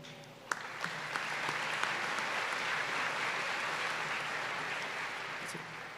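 Sustained audience applause at a 2019 Rolla High School graduation ceremony, a broad steady wash of clapping from a large crowd in a big hall, with a few sharper individual claps and occasional cheers standing out near the start.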